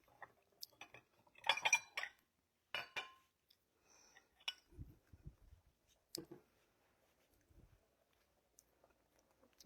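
Bowl and plate handled in a home kitchen during a potatoes-and-ground-beef cooking session, with scattered light clinks of cutlery and dishes in short irregular bursts, a few soft thumps, and quiet gaps between.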